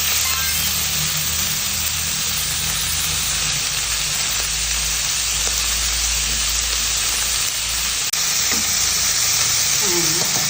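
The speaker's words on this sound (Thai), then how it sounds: "เราก็เอาหมูสามชั้นนะคะ มาผัด กับน้ำมันหมู" Pork belly stir-frying in lard in a hot pan, a loud continuous sizzle with occasional scrapes and stirring clinks throughout.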